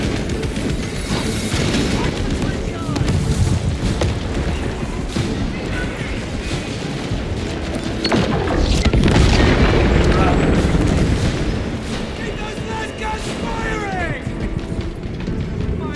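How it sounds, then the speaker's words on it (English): Melter bomb blast in Space Marine 2, a sustained loud rumbling boom with crashing debris, swelling to a heavier surge midway before settling into ongoing battle noise, with a voice speaking over it. "Melter bomb deployed."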